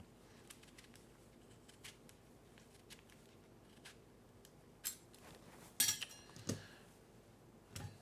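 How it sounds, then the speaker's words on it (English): A knife pares a long strip of lemon peel, giving faint, close scraping and cutting ticks in a quiet room, with a few sharper clicks and rasps near the end. "we're going to take a lemon and cut a nice long strip"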